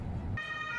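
An ambulance siren with flashing blue lights starts up in the background partway through, a steady high wailing tone that enters abruptly after a low rumble and holds to the end, fairly faint and distant.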